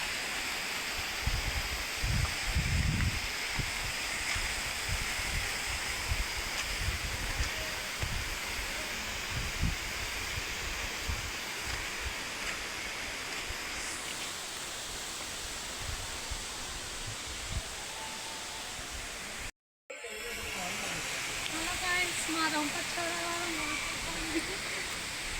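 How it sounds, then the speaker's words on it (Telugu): A waterfall at Rampachodavaram makes a steady broadband rush heard from nearby, with bursts of wind buffeting and handling noise early on, a brief dropout, then the water continuing alongside faint talk. "ఇది మా రంపచోడవరం ఒక వాటర్ ఫాల్స్"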